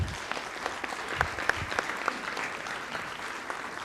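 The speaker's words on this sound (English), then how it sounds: "let's give them a round of applause too" Audience at a city council candidate forum clapping for the candidates, a dense, even patter of many hands with a few sharper claps, lasting several seconds at moderate distance.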